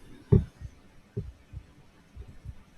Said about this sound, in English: Why do I hear like a heartbeat?